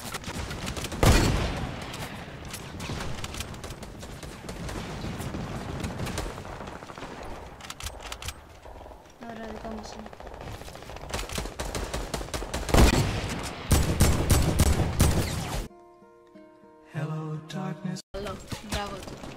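Rapid bursts of video game gunfire in a food fight mode, repeated volleys of shots with brief pauses, loud and dense, ending with a few scattered electronic effects.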